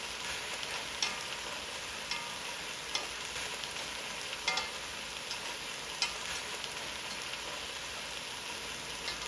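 Beef sears in a hot pan while a browned fond builds, a steady, moderately quiet sizzle broken by scattered small pops and spits.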